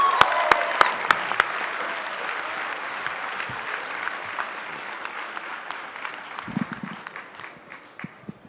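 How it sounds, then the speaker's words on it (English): Graduation ceremony audience applauding, a broad steady wash of many hands clapping that slowly tapers off over several seconds, with a few sharper individual claps standing out near the start. "Let's give Dr. Nelson another round of applause"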